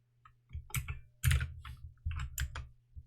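Typing on a computer keyboard: a few short, close bursts of quick key clicks separated by brief pauses.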